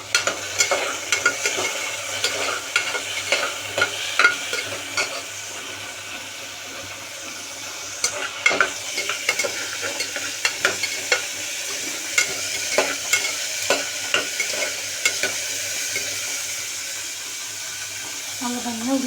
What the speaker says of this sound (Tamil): கேரட்டு, பீன்ஸு எண்ணெய் போட்டுட்டு நல்லா வதக்கிடலாம்